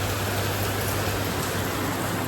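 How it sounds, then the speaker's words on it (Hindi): Heavy rain pours down steadily on a Delhi street, a dense, loud, unbroken hiss with a low hum beneath it and no voices. "ये देखो तो बहुत तेज़ बारिश हो रही है भाई"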